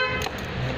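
A horn on a Honda Mio i 125 scooter with an upgraded alarm sounds in a short, sustained honk lasting under a second, close and steady with a layered tonal buzz.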